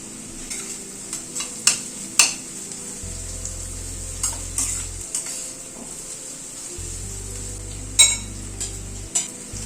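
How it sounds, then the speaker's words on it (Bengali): Minced garlic and ginger fry in a pan, giving a quiet steady sizzle broken by sharp spoon scrapes and clinks, with a low hum that comes and goes in the background. "রসুন আর আদাটাকে একটু ভেজে নেওয়ার পরে"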